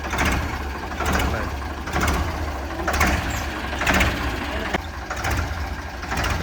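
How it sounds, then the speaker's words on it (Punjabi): A Ford 3600 tractor engine idles with a steady low rumble and a slow, regular pulsing throb, fairly close and continuous. "ਆਵਾਜ਼ ਸੁਣੋ ਟਰੈਕਟਰ ਦੀ ਆਵਾਜ਼ ਬਹੁਤ ਸੋਹਣੀ ਹੈ ਟਰੈਕਟਰ ਦੀ"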